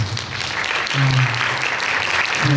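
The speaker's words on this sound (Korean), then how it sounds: "박수 부탁드리겠습니다." An audience applauds at a theater talk concert for a stage play, a sustained, even wash of clapping that stays loud from start to finish, with faint vocal tones mixed in.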